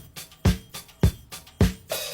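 Disco percussion of triangle, hi-hat scoops, timbale hits and cymbals over a drum loop, with punchy kick-like thumps in a steady beat and bright shimmering highs.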